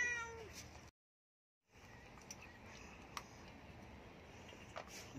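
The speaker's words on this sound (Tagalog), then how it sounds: "Gutom si Mother Cat." A hungry mother Siamese cat meows indoors, several short cries near the start and a few fainter calls later over a steady room hiss, with a brief silent gap early on.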